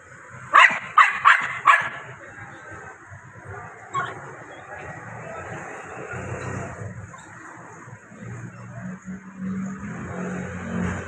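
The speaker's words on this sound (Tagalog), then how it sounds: "aso nito, ng tuta ito" A puppy barks four times in quick succession, then once more, close by, outside a store entrance on a street, followed by quieter background noise and a passing car-like rumble.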